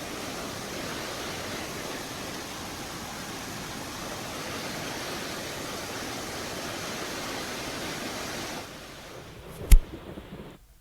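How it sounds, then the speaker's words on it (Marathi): Floodwater after heavy rain surges through village roads, a dense, steady rushing roar that fills the scene before dropping away near the end, followed by a single sharp knock. "गावातील रस्त्यांवरून पाण्याचा जोरदार प्रवाह वाहताना पाहायला मिळतोय"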